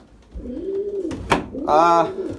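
Pigeons in a loft coo close by in rolling, throaty phrases. A sharp click and a brief flutter-like rasp break in partway through, with someone speaking over the birds.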